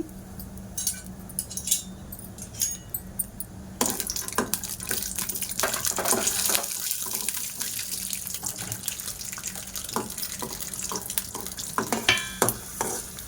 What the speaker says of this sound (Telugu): ముందుగా వేరుశనగ గుళ్ళు ఫ్రై చేయండి.